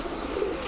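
A pigeon among domestic pigeons in a loft gives a low, soft cooing call, heard close and alone over a steady background hum.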